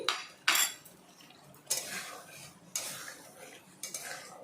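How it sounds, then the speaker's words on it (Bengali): A spoon scrapes and knocks against a pan in four separate bursts while stirring a spice paste with almonds, with quiet gaps between the stirring strokes. "এখন সমস্ত মশলা আবারও ভালো করে মিশিয়ে নেব আর হালকা করে কষিয়ে নেব।"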